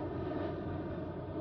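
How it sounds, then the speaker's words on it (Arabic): RJ electronic surveillance and reconnaissance aircraft flying over during a Gulf Shield military drill, a steady continuous engine roar with no pauses. "ويليها كما تشاهدون الآن طائرة RJ، وهي طائرة مراقبة واستطلاع إلكتروني"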